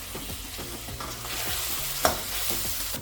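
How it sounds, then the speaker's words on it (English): Onion, ginger paste and minced garlic sauté in hot vegetable oil in a wok, giving a steady close sizzle with repeated scraping stir strokes and one sharper clack near the middle. "Now I'll add some vegetable oil to my wok and I'll briefly saute the onion."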